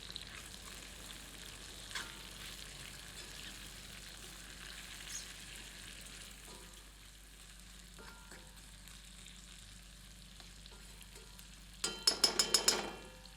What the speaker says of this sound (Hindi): मिलाकर 2 मिनट कुक करते हैं।